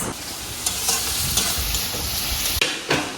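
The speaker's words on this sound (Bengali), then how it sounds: "এখানে শুকনো লঙ্কা ভেজে নিচ্ছি আর কালো জিরে ফোড়ন দিয়ে সব কিছু খুব ভালো করে ভেজে নিয়ে" Dry red chillies and black cumin seeds fry in hot oil with a steady, close crackling sizzle, broken by a few stirring scrapes and clatters and one sharp click near the end.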